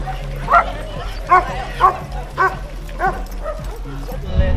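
Several dogs bark and yip at an outdoor canicross dog-and-jog running event, about six sharp barks in a loose rhythm under steady talk nearby.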